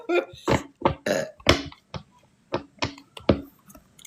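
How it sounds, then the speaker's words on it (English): Repeated burps from one person, a rapid series of about ten short, close, guttural bursts in an uneven rhythm with brief silences between them. "the burp's throwing me off"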